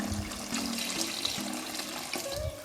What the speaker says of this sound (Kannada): ಈಗ ನೀರು ಆ್ಯಡ್ ಮಾಡ್ಕೊತಾ ಇದ್ದೀನಿ.